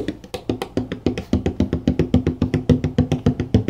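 Light, rapid pitter-patter of a bodhrán tipper tapped very softly on the drum skin, a steady stream of quick, even strokes with no voices.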